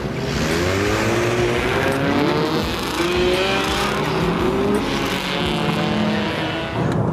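Street racing cars at night pulling away together toward the next race spot, several engines revving and roaring at close range in a steady dense rumble with passing and accelerating vehicles throughout.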